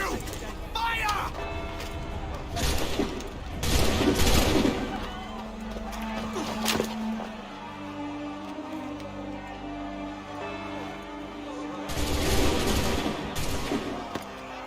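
Musket volley in Assassin's Creed III: loud, crackling bursts of gunfire erupt in waves, some near and some distant, over a noisy scene with shouting voices and a low rumbling backdrop.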